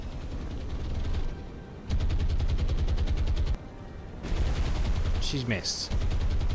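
Anti-aircraft guns fire in sustained rapid bursts during a naval air raid in War on the Sea, loud and continuous with brief pauses, while a voice speaks briefly over the din.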